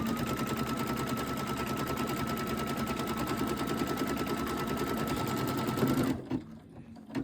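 A sewing machine runs a continuous fast stitch through fabric for a quilted cushion block, a steady, close mechanical whir with even rhythm that stops abruptly near the end, followed by a brief quiet clatter.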